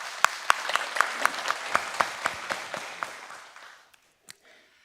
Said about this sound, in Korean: 다시 한번 격려의 박수 한번 드립시다.